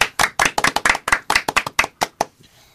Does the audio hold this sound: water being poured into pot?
no